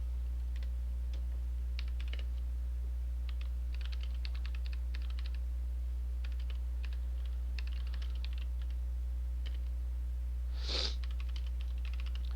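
Quiet bursts of typing on a computer keyboard, scattered key clicks in short clusters over a steady low hum, with one louder clack near the end.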